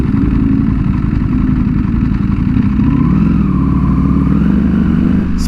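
A Porsche sports car driven in sport mode, heard as a loud, continuous engine roar from close range, its pitch rising partway through as it accelerates, with no talking.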